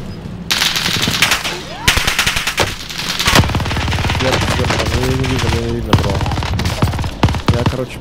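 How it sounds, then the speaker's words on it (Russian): Machine gun fire from a broken MG42 in the video game Warzone on the Caldera map, with several long, rapid automatic bursts separated by short pauses, loud and close, and tonal game sounds appearing between volleys. "Там еще левее кто-то стреляет."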